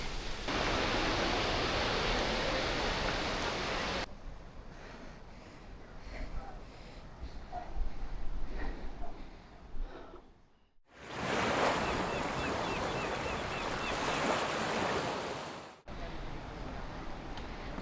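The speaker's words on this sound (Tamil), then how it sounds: "வாட்டர் ஃபால் வைப் வந்து இங்கேருந்தே ஸ்டார்ட் ஆக ஆரம்பிச்சிருச்சு" Broad, steady rushing roar of Jogini Falls in Manali, loud for about four seconds, dropping away to quieter ambience with faint voices, then surging back strongly near the end.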